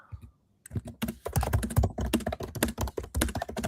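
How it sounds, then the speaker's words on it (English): Rapid, loud clacking of keys on a computer keyboard, a fast irregular burst of typing after a brief pause, close to the microphone. "A bit aggressive on that keyboard, Dan."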